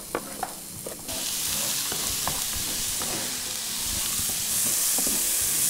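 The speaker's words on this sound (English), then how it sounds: "So we saute the onions for, I don't know, a minute or so until they're translucent" Onions sautéing in a pan, a broad, loud hissing sizzle that swells after a second and holds steady, with scattered clicks and scrapes of a spoon stirring close up.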